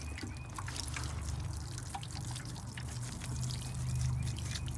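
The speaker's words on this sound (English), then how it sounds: "And next we're gonna water it." Water poured onto soil over newly planted lettuce seeds, a soft steady trickle and splash close by, continuous and fairly quiet with no talk.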